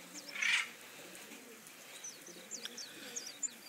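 Pigeons at a backyard loft in Puna, Hilo, Hawaii, with a young bird up on the roof, give soft scattered chirps and calls over light rain, after one louder burst near the start.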